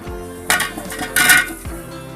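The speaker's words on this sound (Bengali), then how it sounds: "এই মিষ্টি কুমড়াগুলো এখন আমি এখানে ঢেলে দিব" Chopped pumpkin pieces tipped into a metal cooking pot for vegetable khichuri, giving two loud, close bursts of thuds and clinks against the pot with a quiet gap between them.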